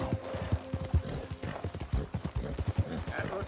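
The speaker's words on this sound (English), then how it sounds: "That looks like a pretty nice horse you got there." Horse hooves clip-clop in a steady, fairly close rhythm through the Red Dead Redemption 2 video game, with a low background hum and a brief snort or whinny mixed in.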